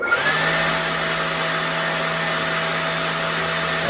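An electric ducted fan on an MD600N RC helicopter running at full RPM produces a loud, steady, high-pitched whine with a strong airy roar, constant and close throughout.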